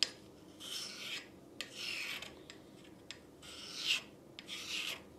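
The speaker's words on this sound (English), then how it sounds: "a couple of licks on the whetstone just to smooth it up a little" A lathe cutting tool is stroked over a whetstone in a series of dry rasping passes, each a soft scrape of roughly half a second with brief pauses between, close by and fairly quiet.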